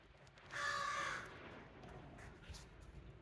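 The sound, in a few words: crow cawing from a tree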